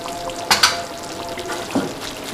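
Fried onions are stirred into beef nihari in a pot just taken off the stove. Two quick scraping strokes come close together, with a third later, over a low bubbling hiss, and nobody talks.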